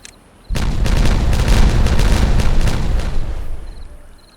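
Detonated charges blowing up in the beaver colony game Timberborn: a sudden heavy boom breaks a quiet backdrop, then a loud, rumbling roar of crackling debris rolls on for about three seconds before fading away.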